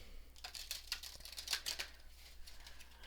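A tarot deck is shuffled by hand in quiet bursts of soft, rapid card riffling and flicking, faint and close, with brief gaps between the runs.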